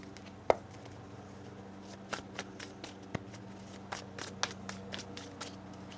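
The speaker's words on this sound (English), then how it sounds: "One more shuffle here." Cards are shuffled quietly nearby, with soft riffling, a few sharp taps and clicks scattered over a low background hum.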